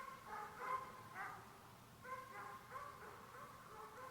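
Several dogs bark and yip at a distance in short bursts at a passing car, fairly faint, with pauses between the outbursts.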